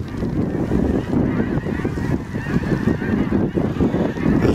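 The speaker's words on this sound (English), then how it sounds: "few geese out there." Geese honk continuously in a flock during a goose hunt in Clair, Saskatchewan, a dense overlapping chorus of calls over light wind noise outdoors.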